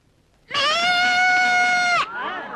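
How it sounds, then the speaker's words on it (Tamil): A goat gives one long, loud, harmonic bleat lasting about a second and a half, then trails off into a shorter, wavering bleat at the end, with nothing else sounding around it. "ஆடு பேசுறது கேட்டாச்சுல"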